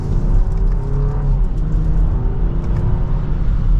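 A 2025 BMW X5 Silver Anniversary Edition pulling hard in sport mode in second gear, a steady loud engine drone rising slightly in pitch with road and wind noise, heard from inside the cabin.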